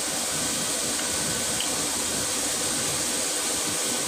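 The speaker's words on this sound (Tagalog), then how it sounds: "Lagyan ng tubig." Water pours into a cooking pot of simmering meat, producing a steady, close hiss and splash that continues evenly throughout.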